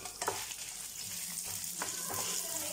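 Green chilies fry in hot oil with a quiet, steady crackling sizzle. Occasional scraping strokes from stirring stand out, with a sharper clatter near the start.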